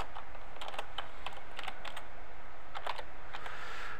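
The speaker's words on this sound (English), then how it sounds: "Let's go ahead and finish typing." Close typing on a computer keyboard, quick irregular bursts of crisp key clicks and clacks with short pauses, no voices.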